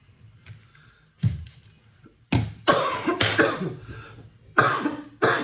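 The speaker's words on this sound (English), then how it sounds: "Excuse me, terrible cough" Several harsh coughs in short bursts, some clustered in pairs, close to the listener with quiet gaps between them.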